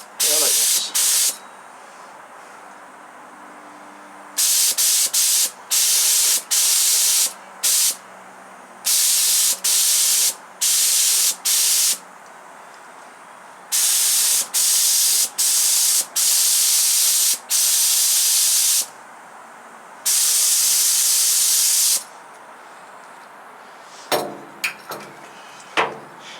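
A cheap eBay spray gun sprays enamel paint in loud, close hissing bursts of a second or two each, with short pauses between them and a few clanks near the end.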